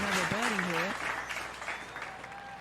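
Clapping from a video-game golf crowd in PGA Tour 2K23, a soft continuous patter fading over a few seconds while someone talks on top of it.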